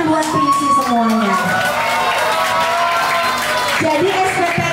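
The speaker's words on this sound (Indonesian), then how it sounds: "Tepuk tangan buat PIC semuanya." A crowd of children at an English and character camp in Kalideres claps and cheers, loud and close, with shouts and whoops rising over the clapping.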